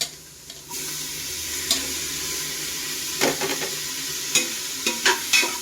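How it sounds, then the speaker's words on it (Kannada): Tomatoes go into a hot frying pan and are stirred, giving a steady sizzle. Repeated scraping and clattering strokes of the spoon in the pan rise over it. "ಈಗ ನೆಕ್ಸ್ಟು ಟೊಮಾಟೊ ಹಾಕ್ಕೊಳ್ಳೋಣ"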